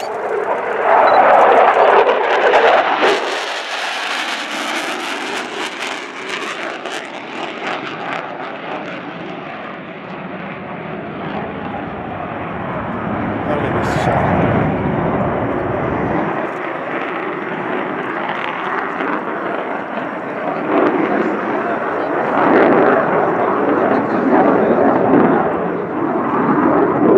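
Polish Air Force Su-22 Fitter jet making a low-level show-of-force pass at about 480 knots and 500 feet during an air display: a loud, sustained roaring jet engine rumble that swells and shifts as the aircraft passes, with no voices.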